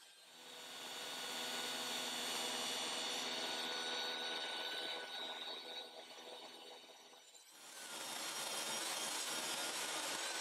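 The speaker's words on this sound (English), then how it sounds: "This first rebate was a perfect candidate for using my Orange Tool CMT flat tooth grind grooving blade" A CMT flat tooth grind grooving blade cuts a rebate in wood, giving a steady loud whining saw roar that dips briefly before resuming with full force, with no voices.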